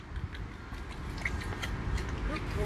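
Close, crisp crunching and gnawing as a dog bites a dental chew repeatedly in irregular bursts, in a quiet, noisy-floored room.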